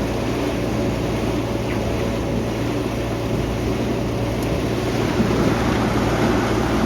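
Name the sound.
farm tractor arriving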